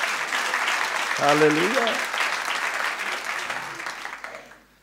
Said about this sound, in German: Das ist mehr als ein Applaus wert.